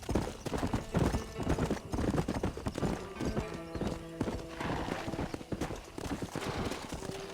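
Horse hooves clip-clop steadily in Red Dead Redemption on Nintendo Switch, a loud, continuous rhythmic gait with a faint whinny, heard over a background music score.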